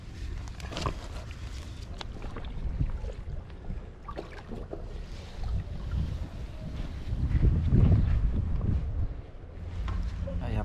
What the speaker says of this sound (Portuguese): Vento demais, o tempo mudou, garoou, uma loucura.